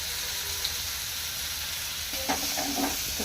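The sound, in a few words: vegetables frying in a pan with turmeric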